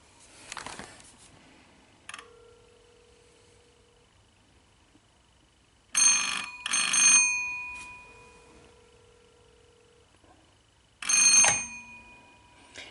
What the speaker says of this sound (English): The reason why it's not ringing correctly like it's supposed to ring, because I've got another telephone on this line